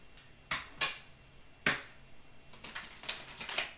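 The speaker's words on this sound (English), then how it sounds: "One more shuffle." A deck of tarot cards is handled quietly and close by, with a few sharp taps and snaps. A short burst of crisp riffling and shuffling follows near the end.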